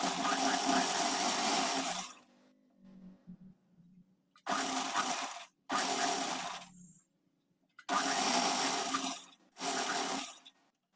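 A sewing machine stitches a kurti in several close, loud bursts of running, each lasting one to two seconds and separated by short quiet pauses.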